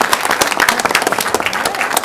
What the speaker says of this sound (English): You can all clap for her.